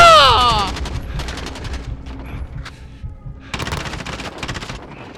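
Automatic gunfire from Call of Duty: Modern Warfare, rapid bursts of machine-gun shots loud and near, separated by brief pauses, with game effects in between and a voice faintly present.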